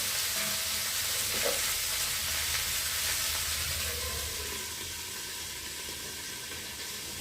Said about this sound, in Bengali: সবজিটা ভাজা ভাজা হয়ে যাবে, তারপরে ওর মধ্যে মশলা দেবো।